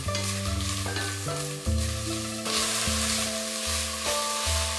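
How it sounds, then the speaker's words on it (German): Chinese cabbage leaves and spring onions frying in hot oil: a continuous loud sizzle with stirring clatter and a steady undertone, close up and with no voices. "Lauchzwiebeln in heißem Öl anbraten."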